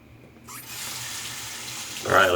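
Tap water running into a sink to rinse a razor after a wet shave, a steady close splash that starts abruptly and swells louder near the end.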